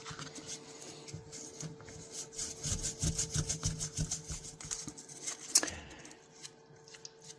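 Sandpaper rubs back and forth over the blade of a vintage Sabre Slimline knife near the ricasso and tang, a steady rhythmic rasping of quick strokes that stays close and moderately loud, with no talking.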